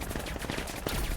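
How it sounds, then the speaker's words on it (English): Rapid gunfire crackles in a 5v5 video game tournament match, a dense burst of overlapping shots at moderate volume, lasting only about a second. "Some gunfire is exchanged onto your mid players, but nothing really going to find anything."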